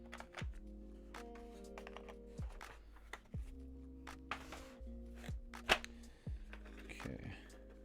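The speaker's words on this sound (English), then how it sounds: "this is kind of scary when I like press the keycap into place" Keycaps pressed onto switches of a Hex.4B custom mechanical keyboard, giving a run of sharp plastic clicks and snaps at irregular intervals, close and fairly quiet, with a few low thumps of the board flexing.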